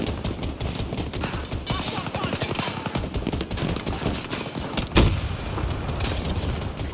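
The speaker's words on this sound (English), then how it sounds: "Oh, I'm getting shot at." Dense, continuous bursts of gunfire fill Battlefield 2042 combat, rapid rattling shots layered over one another with one sharp, louder blast standing out midway.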